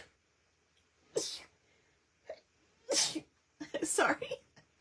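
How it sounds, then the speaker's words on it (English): A single loud, close sneeze from a woman during a card-stamping craft class, with smaller breathy bursts and sniffs around it and no talking. "I'm going to sneeze."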